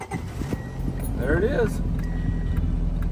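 A 1984 Honda Prelude's carbureted engine catches and runs on in a low, steady idle, heard close up while someone talks over it.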